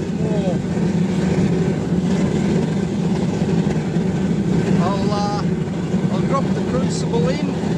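An oil-fired brick furnace roars steadily while melting aluminium, a dense continuous rumble with a broad hiss that runs unbroken throughout, with a few faint higher squeaks or tones near the end.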